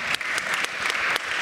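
Steady applause from a crowd fills the whole moment, dense and fairly loud, with a few sharper claps standing out.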